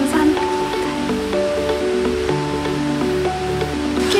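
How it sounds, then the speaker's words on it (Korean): A constant rushing roar of water falling heavily from the 130-metre Yeonsan Falls on Naeyeonsan, Pohang, fills the scene, with steady music tones playing over it. "130m 높이에서 거침없이 떨어지는 연산폭포"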